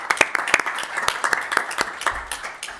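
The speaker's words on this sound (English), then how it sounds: "we'll give her a round of applause." A small audience at a city council meeting claps for a parks and recreation commissioner, sparse, uneven hand claps from a handful of people, fairly close, thinning toward the end, with no speech over it.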